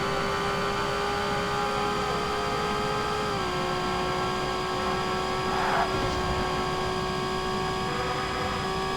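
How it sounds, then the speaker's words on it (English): A steady, droning jet engine roar with sustained tonal whines hums on throughout in the racing video game Forza Motorsport, like a jet heard from a distance, loud and unbroken. "That's some really loud jet noise."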